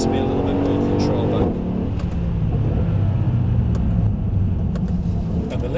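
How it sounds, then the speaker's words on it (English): Mercedes E-Class being driven with gears changed manually via paddle shifters on the steering wheel; a steady, loud engine and road rumble runs throughout with a shift in tone near the start as revs change. "I'm now changing using the paddles on the steering wheel, but it will only change when I tell it to."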